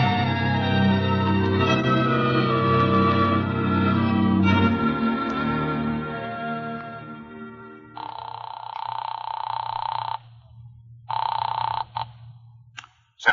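An old-style telephone bell rings loudly in a rich, sustained peal before cutting to shorter electronic ringing bursts separated by brief pauses.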